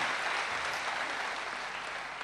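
A crowd at a Hindi poetry recital claps steadily, a dense even patter of many hands held at moderate volume, with no voices over it.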